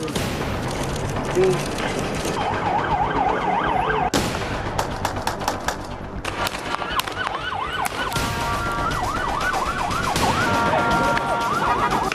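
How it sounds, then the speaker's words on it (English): Ambulance siren wailing in repeated rising and falling sweeps through a tense street protest where tear gas is being fired, loud and close over dense crowd noise, shouting and sharp bangs. "The ambulance is here taking the injury."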